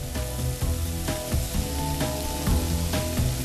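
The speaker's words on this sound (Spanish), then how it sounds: "Ahora, los langostinos a la mantequilla hirviendo." Prawns fry in boiling butter with a bright, crackling sizzle, punctuated by repeated clattering stirs of a utensil in the pan, close and continuous with no talking.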